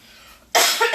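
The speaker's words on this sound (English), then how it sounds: "I'm going to cough now" One sharp, close cough bursts out after a half-second of quiet room tone, harsh and broadband, with a couple of quick follow-up pulses at the tail.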